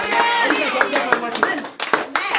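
Church congregation applauding together, a dense run of sharp claps that rises and falls in bursts, loud and close, with voices mixed in beneath the clapping.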